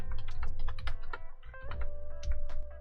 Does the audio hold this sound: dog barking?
no